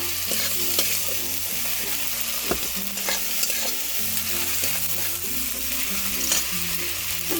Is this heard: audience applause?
no